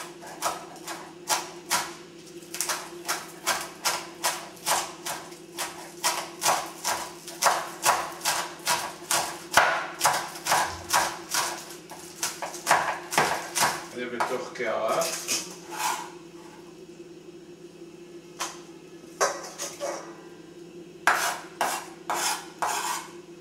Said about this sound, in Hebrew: ואני קוצץ אותם דק.